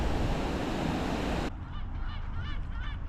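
Ducks on the Staffordshire and Worcestershire Canal at Stourport give a few faint honking quacks, heard after a loud burst of wind and water noise cuts out.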